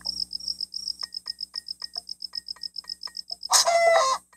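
Birdlike clucks and gobbling calls of dodos in a blocky video game, a short run of repeated chirps that swells into a loud burst near the end, with steady cricket-like trilling throughout.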